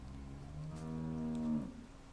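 A cow in The Walking Dead video game gives one long, low, steady moo that rises slightly and then breaks off, heard clearly and alone at a quiet level.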